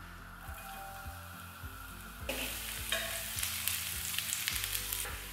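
Garlic frying in a generous layer of oil in a pot, with a steady sizzle that swells louder partway through, joined by irregular scraping and stirring knocks from a utensil against the pot.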